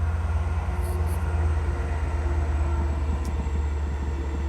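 A train passes nearby, a steady loud low rumble with continuous mechanical roar that holds throughout, with faint higher squeals above it.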